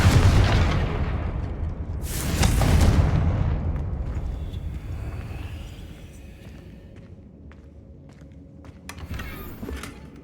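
The Confringo fire spell in Hogwarts Legacy goes off in a loud whooshing blast a couple of seconds in and fades into a rumbling tail, with scattered game effects and crackles afterward.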